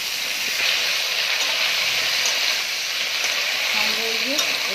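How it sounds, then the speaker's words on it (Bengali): Green banana and potato frying in a pan with dried chili tempering, giving a loud, continuous close sizzle and hiss with faint stirring, no speech. "শুকনো লঙ্কা ফোড়ন দিয়ে কলা আলু ভাজা হচ্ছে"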